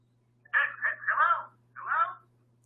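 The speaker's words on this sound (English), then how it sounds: "We're getting a phone call." An incoming telephone call on a radio call-in show sounds as a few short, bright electronic bursts in a quick uneven series, clear over a faint steady hum.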